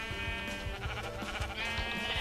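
Sheep in the Minecraft video game bleat in a steady wavering call, with other game sounds running throughout at a fairly even level.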